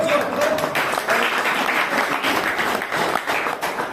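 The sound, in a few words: loud audience applause for the speaker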